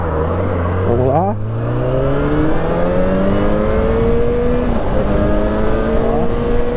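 A 2012 Yamaha XJ6 motorcycle accelerates hard on the road with a loud, close engine whine that climbs steeply in pitch, drops briefly on a gear change, then rises again under steady wind rush.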